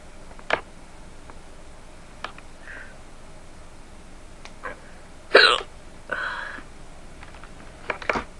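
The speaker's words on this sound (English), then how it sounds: "I know how much you guys like hiccups" Several short, sharp hiccups from one person, spaced irregularly across a quiet room, with a louder burst near the middle.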